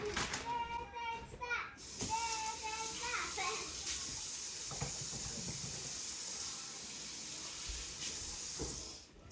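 Running tap water splashes steadily as hands are washed during a chicken deboning session, a hissy broadband stream heard alone after brief child-like voices at the start.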